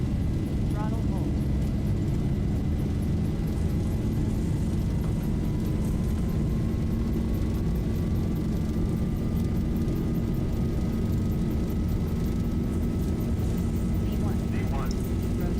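Boeing 737 jet engines roar at takeoff thrust in a flight simulator, a loud, steady, broadband rumble with a faint rising tone. Voices speak under it.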